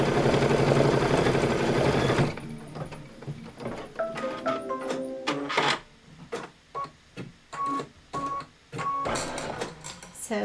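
An embroidery machine satin-stitches a sweet-land-of-liberty pillow design, its needle rattling in dense, rapid bursts that start and stop repeatedly, close up, with a loud whirring stretch at the start.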